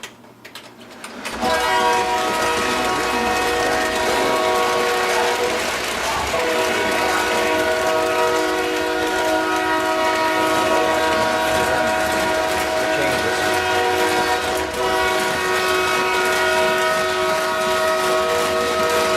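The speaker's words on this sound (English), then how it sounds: "we'll run a couple trains here" Model trains run around a figure-8 layout, starting up after a brief quiet moment and then rolling continuously with a steady rumble and long sustained whistle or horn tones, loud and close throughout.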